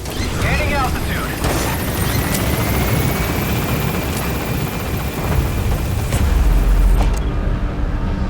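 A helicopter gains altitude in the video game Metal Gear Solid V: The Phantom Pain, a loud continuous rotor roar close by, with a radio-style voice speaking briefly over it.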